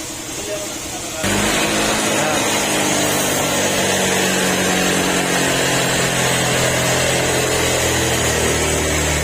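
A Honda Click 150 scooter engine in a repair shop catches after a short quiet moment and keeps running loud and steady, with a high buzzing drone.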